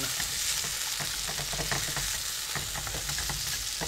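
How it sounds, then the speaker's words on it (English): Potatoes sizzle and crackle in a frying pan, a steady hiss with scattered pops and occasional stirring scrapes, close and fairly quiet, no voices. "you can hear that sizzling, can't you"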